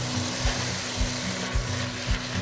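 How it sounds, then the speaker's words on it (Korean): Seasoned beef, bean sprouts and green onion stir-frying for spicy beef soup, a steady close hiss and scraping with rhythmic stirring strokes about every half second, no talk. "여기서 양념한 고기하고 숙주하고 대파를 충분히 볶아줘야 간이 안으로 쏙 들어가요."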